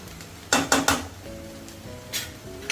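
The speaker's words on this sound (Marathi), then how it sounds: "परतून घेते भाजी ही शिजलेली आहे" Chivai (chighal) greens being stir-fried in a pan: three quick metallic clanks of a spatula against the pan, a brief pause, then two more scraping knocks, close and fairly soft over a low background hum.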